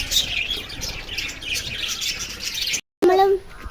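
Birds chirp and twitter busily outdoors during a walk toward the hills, with a steady mix of calls, a brief dropout, then a clearer, closer call.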